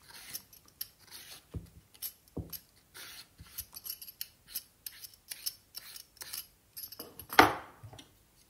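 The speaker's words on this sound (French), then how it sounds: "Je commence tout d'abord par prendre un concombre que je vais venir éplucher" A cucumber is peeled in a series of short, crisp scraping strokes, irregular and close, with one louder scrape near the end and quiet pauses between strokes.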